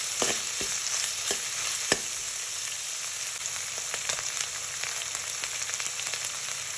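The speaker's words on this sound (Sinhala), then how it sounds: "මම මෙතන මේකේ තෙල් චුට්ටක් දාලා මෙතනදීම බැද ගන්නවා." Dried sprats frying in a little oil give a bright, constant sizzle, close and steady, with scattered crackles and pops breaking through. No voices.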